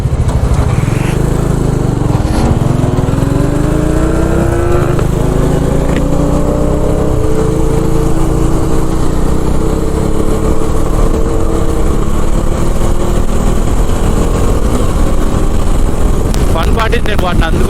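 Superbikes including Kawasaki ZX-14 and ZX-10R, BMW 1250 and a Harley-Davidson rev and accelerate nearby, engine tones sweeping upward in overlapping waves over steady loud road and wind noise.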